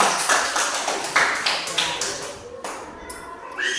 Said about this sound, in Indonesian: tepuk tangan untuk Andika